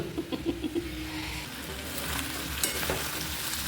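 Chicken browns with spices in a hot pan, sizzling steadily up close. Several quick clunks of stirring come early, and a softer scrape follows later. No one speaks.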